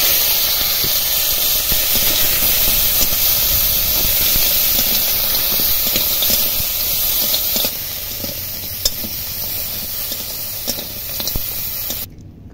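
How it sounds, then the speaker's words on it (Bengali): Crabs coated in salt and turmeric fry in hot oil, giving a loud, steady hiss and crackle that runs unbroken and close, easing slightly toward the end before a brief cutoff. "কাঁকড়াগুলো লবণ হলুদ মাখিয়ে নিয়ে তেলে ভেজে নিচ্ছি"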